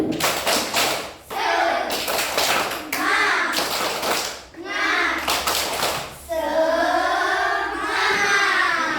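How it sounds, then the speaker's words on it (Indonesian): Schoolchildren standing in a classroom perform the Indonesian 'tepuk semangat' clapping chant, sharp rhythmic bursts of group claps alternating with loud chanted voices, ending in a long shouted cheer. "Yuk, tepuk semangat."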